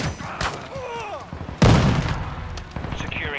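Gunfire bursts in a Call of Duty-style domination match on the Shipment map, then a heavy grenade blast near the midpoint, followed by more scattered shots, with voice callouts over the action.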